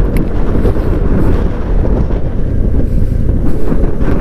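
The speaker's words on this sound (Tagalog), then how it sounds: "Grabe, lakas ang hangin." Strong wind buffets the microphone outdoors near a cliffside road in San Nicolas, Pangasinan, a loud, constant roaring rumble with heavy low-end gusts filling the whole stretch, no voices.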